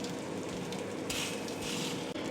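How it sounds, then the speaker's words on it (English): Bacon and sausages sizzle in a frying pan, a steady, close crackling hiss with brief brighter spits of fat. "Here's a couple of angles of me frying the food."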